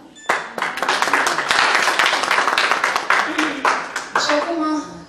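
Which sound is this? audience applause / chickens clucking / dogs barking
audience applause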